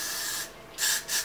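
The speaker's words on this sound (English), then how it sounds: "For the spraying, you want to make sure that you do this in a couple light layers." Several short hissing bursts from a spray bottle misting purple dye onto a wig, one longer spray, a pause, then two quick close sprays.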